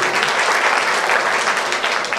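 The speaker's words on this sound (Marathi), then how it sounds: "प्रत्येकाने प्लीज टाळी वाजवा" A crowd claps steadily and densely throughout, loud and close, with no talk over it, at an award ceremony for the Bhandarkavathe Bhushan honour held by a local development forum and foundation.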